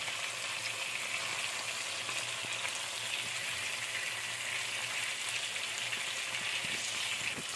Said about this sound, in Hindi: आपका दूसरा साइड फ्राई हो रहा है